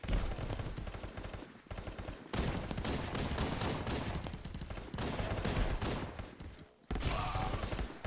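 Pistol gunfire in the VR shooter Contractors: rapid bursts of loud shots packed into dense clusters, with brief gaps between volleys and no talking over them.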